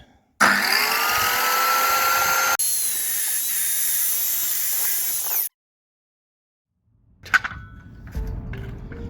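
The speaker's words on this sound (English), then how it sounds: "Here we're going to cut the waste before we sand." A power tool cuts away waste wood from pergola timber before sanding, a loud steady whine that runs for about five seconds with a pitch shift partway through, then stops. Silence follows, then light handling knocks and rustling close by.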